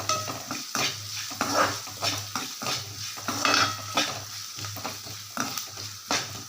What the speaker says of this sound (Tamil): வெங்காயம் கொஞ்சம் இதில் நல்லா வெந்து வரட்டும்